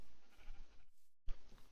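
A sheep bleats in the block-building survival game TerraFirmaCraft, a couple of short nasal bleats at moderate volume set against low ambient game noise.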